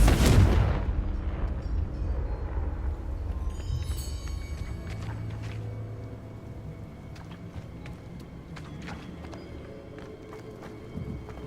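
A Confringo explosion spell from the video game Hogwarts Legacy on PS5 erupts with a loud, close blast, then rumbles and crackles of battle carry on under scattered sharp impacts and magical zaps.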